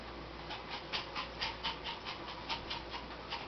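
A dog panting close by in quick, steady rhythmic breaths that continue throughout, with no voices.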